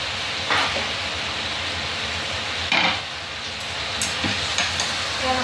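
Pakbet of squash, okra and french beans with shrimp paste and oyster sauce stirred in a pan, a steady sizzle with a few scraping clacks of the utensil, no talking.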